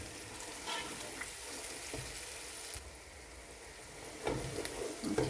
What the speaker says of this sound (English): Now I'm just going to fry that now for about 2 minutes.